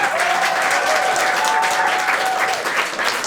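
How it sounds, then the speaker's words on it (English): An audience applauds at the end of a live comedy roleplaying show, with loud, dense, steady clapping from a full room that carries through the whole stretch. "Big round of applause for Phoebe Hurst, Brendon Bennetts, Henri Ne"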